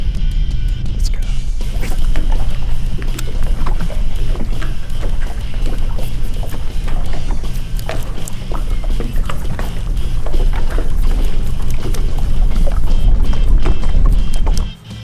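A Ranger bass boat is launched into windy water, with a loud continuous rumble of wind and water mixed with repeated hull knocks and splashes, cutting off abruptly at the end.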